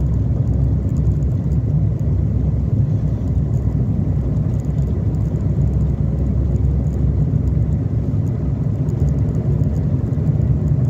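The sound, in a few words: Renault 11 GTX car driving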